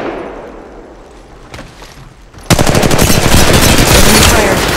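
Enemy automatic gunfire in Apex Legends Mobile starts abruptly after a quieter stretch and runs as a loud, sustained close-range volley of rapid shots to the end.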